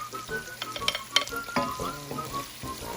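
Chopped onions and four cloves of fresh garlic fry in a pan for chicken luncheon meat fried rice, stirred with a utensil: a steady close sizzle broken by scraping strokes and light clinks against the pan.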